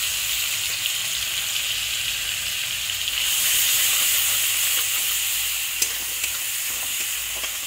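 Grated small onion dropped into hot mustard-style oil left from frying koi fish, sizzling steadily with a brief louder surge of hiss and a few pops and stirring clicks, close and continuous without any talk.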